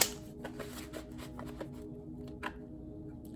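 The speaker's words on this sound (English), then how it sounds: "I gotta shuffle over here because these cards keep flying." Tarot cards being shuffled by hand, a run of soft papery riffles and flicks with a few sharper snaps, close and fairly quiet, with no talking.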